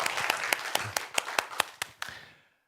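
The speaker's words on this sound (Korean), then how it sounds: "하나님께 영광의 박수 올려드리겠습니다" Congregation in a church clapping together in a steady rhythmic beat, about ten sharp unison claps over a dense wash of applause that fades out at the end.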